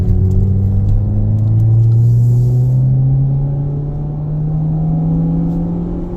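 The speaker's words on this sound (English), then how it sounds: "All right, we'll do a freeway pull on the on-ramp." A 2014-2017 Jeep Patriot accelerates hard up a freeway on-ramp in second gear, its engine note rising steadily and loud with a smooth climbing drone and road rumble, no talk.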